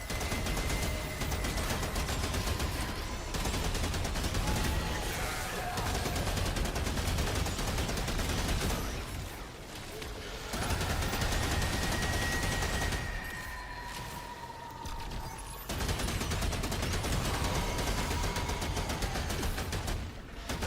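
Heavy, continuous gunfire from the video game Remnant 2, loud, rapid bursts of shots filling the whole stretch, dropping briefly twice before resuming at full intensity.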